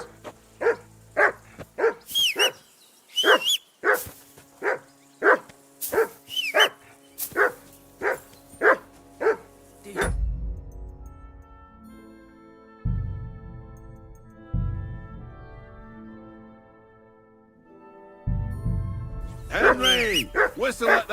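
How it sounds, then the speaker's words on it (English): Dog barking in the video game Kingdom Come Deliverance 2, a rapid series of about a dozen loud, close barks, followed by game music and voices talking, with a few more barks mixed in at the end. "Whistle at that mutt of yours to stop barking."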